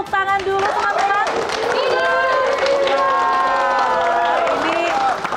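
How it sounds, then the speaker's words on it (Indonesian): Loud cheering and clapping from supporters of rival candidates in a TV studio before the Jakarta 2024 gubernatorial election debate, blended with a busy musical fanfare throughout. "yang tadi bertepuk tangan adalah para pendukung dari masing-masing pasangan calon"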